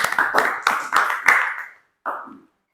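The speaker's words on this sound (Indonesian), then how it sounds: "Kasih aplaus dulu untuk kita semua." Classroom students clap together in a quick run of five or six sharp, close claps that fade away, followed after a short pause by one final clap.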